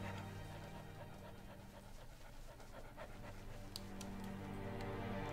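A young snow fox panting steadily in the Spirit of the North game, quick rhythmic breaths repeating close up and fairly quiet over a soft ambient background.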